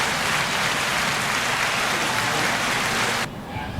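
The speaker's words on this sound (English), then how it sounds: "I think that deserves a round of applause" A thick, even roar of clapping for a podcast's sponsor and listeners runs steadily for several seconds, then cuts off abruptly into near quiet.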